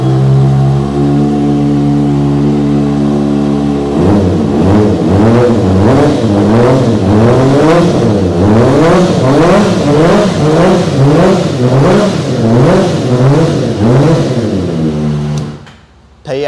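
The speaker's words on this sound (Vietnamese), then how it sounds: "lên cái bô để nổ máy cho anh em nghe" A Kawasaki ZX25R four-cylinder 250cc motorcycle engine with a titanium exhaust starts from idle and is revved repeatedly in rising and falling pulses, loud and close, then cuts off.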